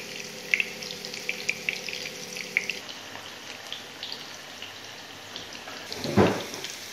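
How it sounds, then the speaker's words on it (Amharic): Potatoes frying in a little oil in a home kitchen, a continuous soft sizzle with light crackles and pops, one louder splashing burst near the end, no talking. "ድንቹን መጥበስ ጀምረናል"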